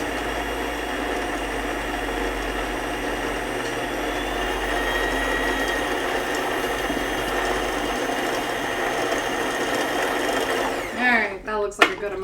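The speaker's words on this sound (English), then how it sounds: "I'm gonna thread my bobbin real quick" Sewing machine winding a bobbin, a continuous high whirring hum held steady for about eleven seconds before stopping with a few clicks and handling noises.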